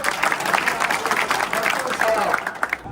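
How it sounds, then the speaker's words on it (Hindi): Villagers at a gathering clap for a young newly elected sarpanch, a dense, fairly steady burst of applause with slightly uneven rhythm, fading briefly at the very end. "युवा सरपंच जो पूरा सबसे बड़ा वोटों से जीत करके आपने इसको एक सरपंच की पंक्तियों में खड़ा किया है, इनके लिए एक बार जोरदार तालियां बजाएं।"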